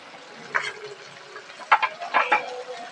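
A ginger and green chili paste is stirred as it fries in a pan: a soft, close sizzle with a few scraping stirs and light knocks coming in brief clusters.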